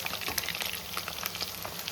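Garlic chicken kebab deep-frying in hot oil, a dense continuous sizzle with crackling pops, close and fairly quiet.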